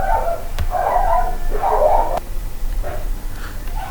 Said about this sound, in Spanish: Bueno, ya paró un poquito los perros